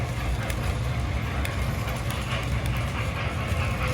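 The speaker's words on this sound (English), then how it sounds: "And then what we did is let the train go by." An MTH model train in Pennsylvania Railroad livery runs past on an upper track loop, giving a steady rolling rumble with faint rail clicks, continuous and fairly close, with no talking.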